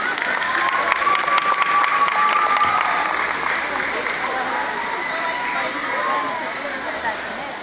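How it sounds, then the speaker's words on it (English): An audience at a school arts festival for infant pupils breaks into sustained applause, loud at first and easing slightly, with a few whistles and voices mixed into the clapping. "Let's give him a round of applause"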